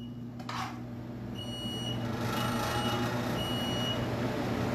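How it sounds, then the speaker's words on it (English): A steady high electronic beeping tone repeats in long pulses over a constant low hum, fairly loud and without talk. "You hear the alarm going off just now?"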